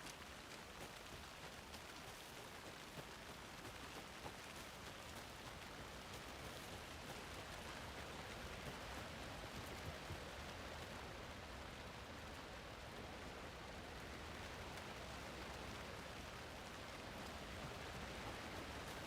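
Steady rain falls in the video game Alan Wake 2, a continuous, even hiss of drops on surfaces, faint and unbroken throughout with no voices.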